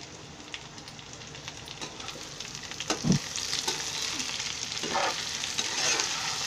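Ivy gourd (tondli) frying in oil in a pan gives a steady close sizzle with soft crackles and a few brief stirring knocks, no voices.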